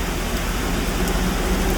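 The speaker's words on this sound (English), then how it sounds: "It's raining like shit." Heavy storm rain during a tornado warning on a flooded road, a dense, loud, continuous roar of downpour hitting surfaces with no pauses.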